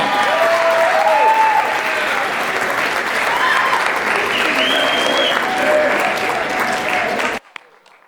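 Loud, sustained audience applause at a talent show fills the room for about seven seconds, with cheers and whoops riding on top, then cuts off abruptly into near silence.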